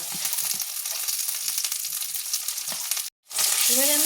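Onion paste goes into lightly fried chopped onions in a pan, a loud close sizzle with stirring scrapes that cuts out for a moment, then returns even stronger.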